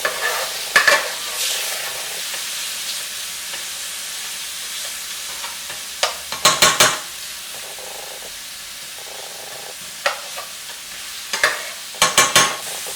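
Tomato puree being stirred into onions frying in a pan for a restaurant-style prawn pathia: a steady sizzle throughout, broken by several short bursts of scraping and stirring, close and fairly loud with no talk.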